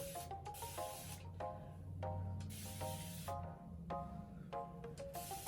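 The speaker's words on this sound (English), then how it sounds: "We're going to spray it with the spray bottle." Water spritzed from a spray bottle onto dry hair before styling, heard as a run of short hissing bursts in quick succession over a soft background hum.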